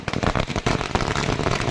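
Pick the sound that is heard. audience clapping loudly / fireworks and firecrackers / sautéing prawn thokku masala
fireworks and firecrackers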